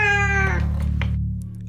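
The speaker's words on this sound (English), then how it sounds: "looking intently at Magpie and meowing loudly" A cat meows loudly and close by, one drawn-out call that fades out toward the end, with no voices.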